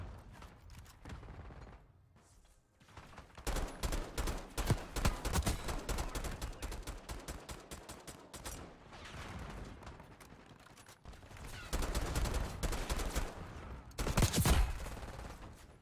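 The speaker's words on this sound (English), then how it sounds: "I thought the bullets came from the left." Gunfire in the video game Black Ops 6, rapid automatic bursts and scattered single shots in quick succession, loud and close, with short quiet gaps between exchanges.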